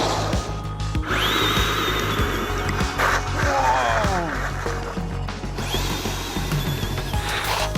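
A Traxxas Rustler RC truck runs at full throttle on dusty ground, its electric motor whining loud and close, rising and falling in pitch as it speeds past, with people talking over it.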